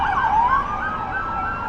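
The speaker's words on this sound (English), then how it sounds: "probably the 20th cop car or ambulance we've seen tonight." A loud, close police car or ambulance siren wails on a city street in Midtown Manhattan at night, its pitch sweeping steadily up and down over road rumble.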